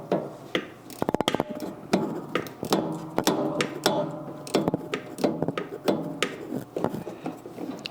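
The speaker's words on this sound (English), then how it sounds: "try to get in here with this ratchet and see" Ratchet turning a long engine bolt in a cramped engine compartment, a rapid run of close, dry clicks and metallic knocks in uneven bursts, with tool scrapes and clanks between strokes.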